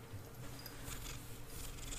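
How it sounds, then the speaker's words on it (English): Emma, a pet cat, purrs softly and steadily up close in a quiet room, a low continuous rumble with no voices over it. "Hey, you can actually hear her purr."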